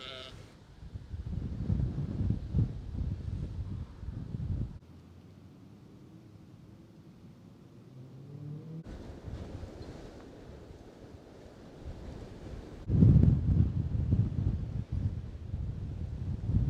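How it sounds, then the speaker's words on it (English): Strong wind gusting across open, shelterless North York Moors upland, loud buffeting bursts at the start and end with a quieter, calmer stretch between, and sheep bleating faintly in the background. "Wow, that wind's still pretty strong."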